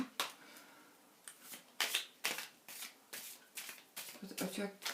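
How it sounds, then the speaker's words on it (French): Tarot cards are shuffled by hand in quick bursts of papery riffling and slapping, close and crisp, repeating about ten times with short gaps between. "je mélange mes cartes en pensant très fort à ta question"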